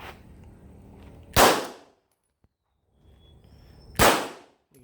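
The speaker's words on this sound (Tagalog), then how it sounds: "Firing." Two loud, sharp firearm shots ring out at an outdoor shooting range about two and a half seconds apart, each with a short decaying tail, while faint background murmur sits between them.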